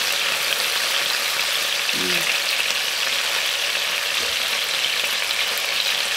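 Fish fillet frying in a pan with a dense, steady sizzle that runs continuously at high level, with a brief soft clink or stir partway through.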